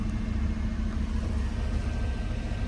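A Toyota Crown Royal Saloon engine idles with a steady, low, even rumble close by, alone and without talk.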